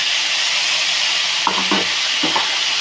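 Chopped potato and pointed gourd fry in a pan with a loud, steady hiss and sizzle, and two brief scraping stirs near the end, close up.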